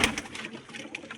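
Desi pigeons give soft, brief coos, quiet and close, a few short calls over faint background noise.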